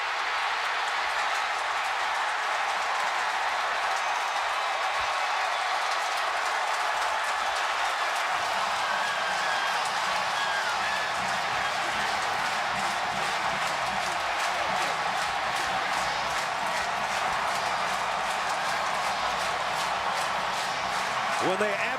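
Stadium crowd at a 2011 Florida State vs Clemson college football game roars as a steady, loud wash of noise that swells slightly midway and fills the whole stretch.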